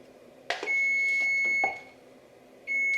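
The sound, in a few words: kitchen timer beeping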